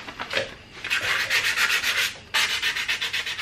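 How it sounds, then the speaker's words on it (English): Brisk back-and-forth sandpaper strokes rasp against a cast brake caliper in quick rhythmic bursts, close by, with a brief pause midway. "we're gonna be sanding this down a little bit before we get to the primer"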